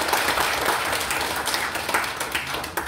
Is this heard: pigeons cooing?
no